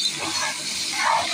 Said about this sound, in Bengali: এখন লাউগুলো দিয়ে দেব, সুন্দর করে নাড়িয়ে